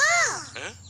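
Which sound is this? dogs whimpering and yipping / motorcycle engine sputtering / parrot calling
parrot calling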